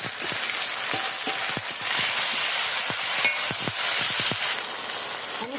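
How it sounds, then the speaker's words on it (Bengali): Chopped tomatoes hit onions that are already frying to a golden crisp in a pan for an egg and bean curry. A steady sizzle runs throughout, with a spatula clicking sharply and repeatedly against the pan. "এখন আমি টমেটো কুচিগুলো দিয়ে দিব।"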